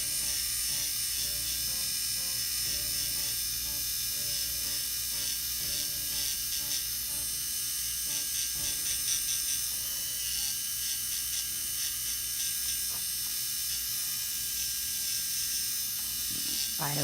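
An electric nail file shortens and smooths fingernails with a steady high-pitched whine. The buzzing runs close and continuous, with slight grinding changes as it meets the nail.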